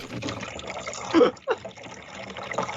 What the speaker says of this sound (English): there's a lot of splashing going around